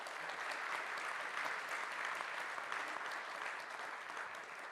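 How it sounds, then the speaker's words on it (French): Applause from an audience fills a large, chilly conference hall at a tech event's opening, a dense, even wash of many hands clapping, somewhat distant and sustained without pause. "vous pouvez l'applaudir"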